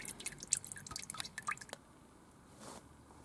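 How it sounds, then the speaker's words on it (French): CVT transmission oil drains from a Nissan Qashqai J10, a quiet run of close, irregular drips and splashes over a second and a half, then trailing off into near silence. "Donc là on laisse couler et puis on va défaire tout doucement jusqu'à ce que ça finisse de dégueuler."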